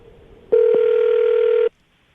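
A telephone tone on an outgoing call, a single steady electronic beep lasting just over a second, loud and clean, with silence before and after.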